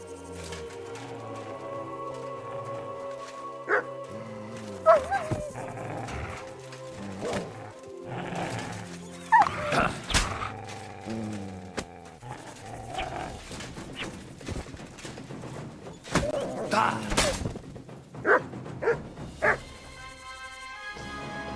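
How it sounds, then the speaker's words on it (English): Dogs in Kingdom Come: Deliverance II barking and yipping in repeated bursts, with some whimpers mixed in over layered game ambience, clear and moderately close. "What, just the dogs?"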